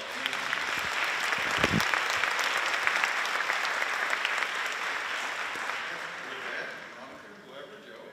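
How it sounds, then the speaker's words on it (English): A large audience of educators at a West Virginia education summit applauds Governor Justice, a dense, sustained wash of clapping that holds steady for several seconds before tapering off toward the end. "Let's give him one nice round of applause"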